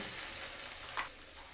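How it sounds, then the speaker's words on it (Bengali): Spice paste for Dhaba-style chicken bharta sizzles and fries in a pan, a steady hiss with a brief stirring scrape partway through. "তারপরে এবার মশলাটাকে কষিয়ে নেব"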